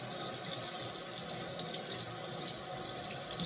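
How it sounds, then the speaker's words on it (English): A brass instrument mouthpiece is rinsed under a running tap, making a steady close hiss and splash of flowing water that carries on without pause and without any voices. "you can go ahead and rinse off your mouthpiece"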